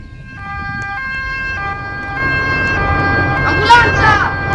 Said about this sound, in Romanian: Ambulanța!